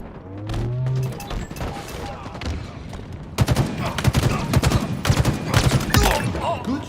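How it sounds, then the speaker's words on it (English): Gunfire in the Halo video game, heard as rapid bursts of automatic shots and booms that turn dense and loud in the second half, with game announcer voice lines in between. "Good shooting, Spartan."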